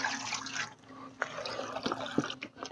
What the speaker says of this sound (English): Just take a little bit of water and we'll wash down our sluice here.